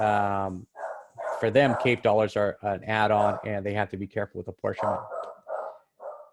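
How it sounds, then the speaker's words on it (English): A dog barks in short bursts under a man's steady speech, the barks faint and partly masked by his voice. "I'm sorry if you hear my dog barking"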